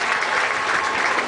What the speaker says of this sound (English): Fans, let's give a nice round of applause.